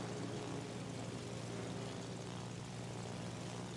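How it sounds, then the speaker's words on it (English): Aircraft squadron engines drone in World of Warships: Legends, a dense, unbroken propeller roar that stays loud and even throughout with no voices. "Aircraft squadron is detected."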